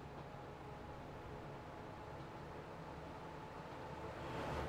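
A train running in Transport Fever 2, a faint steady rumble of rolling rail noise that swells slightly toward the end, with no voices.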